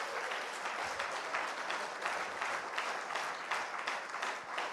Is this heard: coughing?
no